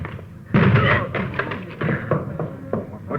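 Police officers in an old radio crime drama bang on a locked door to force it in, a burst of heavy close thuds and knocks with ragged, irregular rhythm over a murmur of background noise.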